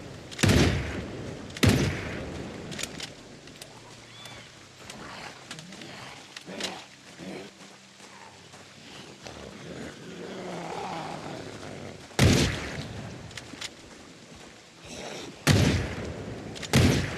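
Gunfire in a survival video game, several loud sharp shots spaced apart with quieter game ambience and faint noises between them.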